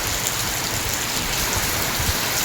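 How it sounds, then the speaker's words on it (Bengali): Heavy rain falls in Malaysia, a steady, dense wash of drops with no voices, even and close throughout. "খুব পরিমাণে বৃষ্টি হচ্ছে আজকে"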